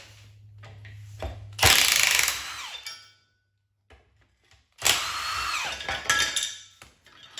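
A power tool whirs and ratchets in two loud bursts while removing the transmission mount from a Mustang during a rebuild, with quiet pauses and faint shop clinks between the runs.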